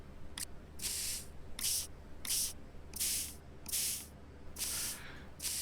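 Cleaning spray blasting a dinosaur fossil in a paleontology sim video game: seven short, bright hissing bursts in an uneven rhythm, close and fairly loud, separated by brief pauses.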